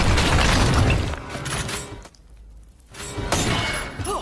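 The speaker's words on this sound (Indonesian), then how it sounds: "Tapi ternyata Lucas dan Sorrento ditipu karena faktanya itu bukan uang melainkan bom" A bomb goes off in a scene from the action film Superfast: a loud, dense blast with shattering debris, a brief drop to near quiet, then another burst of crashing, breaking noise.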